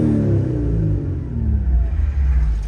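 Engine of an older Japanese sports car running smoothly after an idle fix, a steady low rumble with a gentle rev rise and fall, close and fairly loud throughout.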